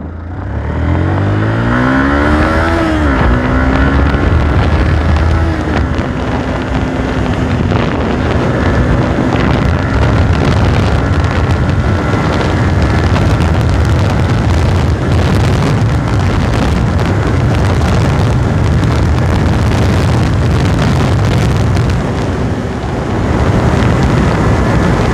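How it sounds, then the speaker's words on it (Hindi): A Yamaha R15 v2 sport motorcycle launches, revving hard and climbing in pitch through several gear shifts, roaring continuously under heavy wind rush as it accelerates away. "तो स्टार्ट करते हैं और बाइक को लॉन्च करेंगे"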